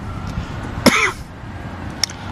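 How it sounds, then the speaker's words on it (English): A single sharp, rough cough bursts out close by against a low outdoor background overlooking Halifax, followed about a second later by a brief fainter throat sound. "sorry for my coughing"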